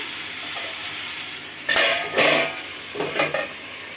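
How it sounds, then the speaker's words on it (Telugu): A lid clanks down onto a cooking pan of Andhra-style pumpkin curry: a few sharp metallic clatters, close and fairly loud, over a quiet kitchen background with no talk. "మొత్తం కలిపేసాను చక్కగా మూత పెట్టేసుకుందాం"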